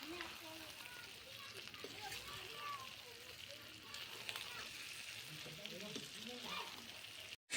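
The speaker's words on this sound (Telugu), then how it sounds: "ఇప్పుడు ఈ చికెన్లోకి పచ్చిమిర్చి, ఉల్లిపాయలు, కరివేపాకు ఈ 3 వేసుకొని ఒక్కసారి వేయించుకోవాలండి" Chicken frying with green chillies, onions and curry leaves over a wood-fired stove in a village kitchen, a soft steady sizzle beneath a speaking voice and some background noise, with a short silent gap near the end.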